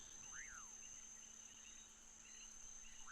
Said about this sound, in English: the crickets are loud as fuck